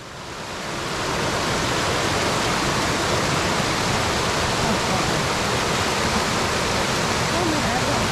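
Cold river water rushes steadily over slippery rocks in a stream near Malang, a loud, continuous broadband roar that swells in during the first second and then holds constant with no voices.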